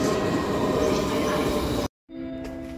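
An S-Bahn train entering a Munich station platform as a loud, steady roar and rumble that cuts off abruptly, followed by a quieter tonal hum.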